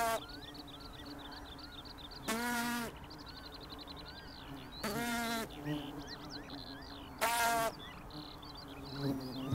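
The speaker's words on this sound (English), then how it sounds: "The buzzing noise soon attracts others." Wild bees buzzing around a nesting hole in soil, a steady close hum broken by three louder, brief bursts of buzzing as more insects arrive.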